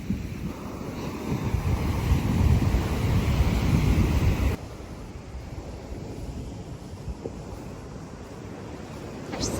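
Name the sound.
ocean waves breaking on a beach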